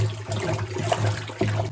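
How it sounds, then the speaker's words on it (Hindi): Water poured into a vessel during a traditional purification ritual in Spiti Valley, giving a gurgling trickle with a low steady hum beneath and brief splashy surges. "इसमें हम डाल रहे हैं पानी।"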